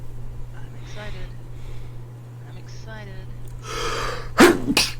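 A single sharp sneeze bursts out near the end, preceded by a quick inhale, over a low steady hum and soft background game chatter.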